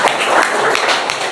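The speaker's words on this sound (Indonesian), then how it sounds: "Nggak ada, ya tepuk tangan." Applause in a classroom during a teaching practice session, a short dense burst of many hands clapping close by, loud and steady throughout.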